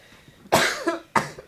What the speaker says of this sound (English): I've got the hiccups and I've got a cough.